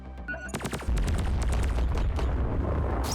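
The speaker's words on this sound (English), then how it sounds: "Nice kaboom, Wiley." A missile explodes in SUPERVERSE, a sudden heavy boom after some brief crackling shots, followed by a sustained, loud rumbling blast with scattered debris pops, no voices.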